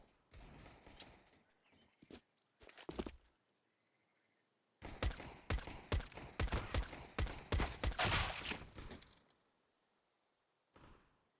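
Glock pistol fire in Counter-Strike, in a pro match at Krakow 2017: bursts of sharp, rapid shots, a few near the start, then a dense volley in the middle and one more isolated shot at the end.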